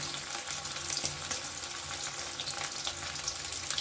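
Boiled potato pieces with salt and turmeric frying in hot oil, giving a steady, dense sizzle with faint crackles close by, continuous throughout with no talking.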